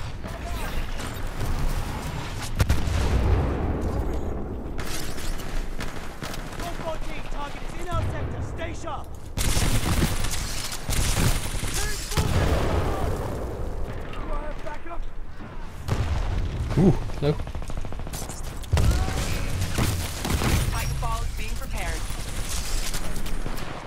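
Gunfire from a weapon in the multiplayer video game Titanfall 2, dense bursts and booming shots filling the whole stretch with mechanical clatter, loud and continuous, with a voice talking over parts of it.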